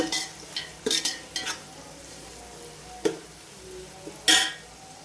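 Onions sautéing in oil for a Bhai-style chicken biryani, with a steady sizzle under repeated spatula scrapes and stirring clatters against the pan, no talk.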